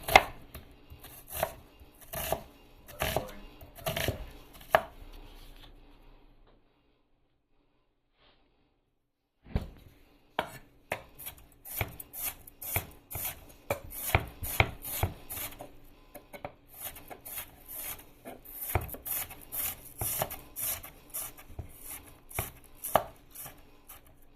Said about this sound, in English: Now we got ourselves a nice onion here, nice red onion. Cut that in half.